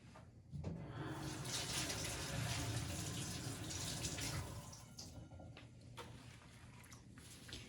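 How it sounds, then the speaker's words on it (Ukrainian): Cold water runs from a kitchen tap as a freshly shaped homemade mozzarella ball is rinsed under it, a steady close splashing rush that eases off toward the end, with no talking. "відносю під холодну воду під кран, щоб вона ну, утримувала свою форму"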